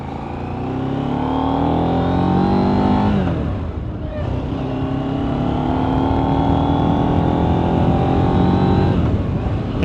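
A 2024 KTM 990 Duke parallel-twin motorcycle engine revs loudly and up close, climbing in pitch, dipping briefly at a shift, then building again with a steady rising drone.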